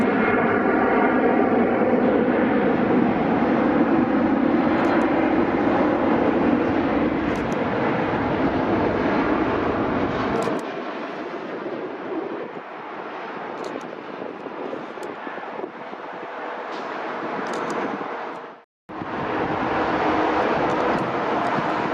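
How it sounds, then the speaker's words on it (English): A nearly new United Airlines Boeing 737 MAX 9 jet at Newark Liberty airport, its loud broadband engine roar filling the first half, then easing to a thinner whine before a brief dropout and return. "this 737 MAX 9 operating United 1206 from Tampa is actually almost brand new"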